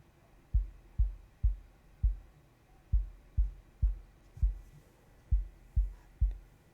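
A recorded sub kick drum thumps out a steady beat, each deep, boomy hit decaying quickly, about a dozen strikes in a loose repeating pattern, close and alone.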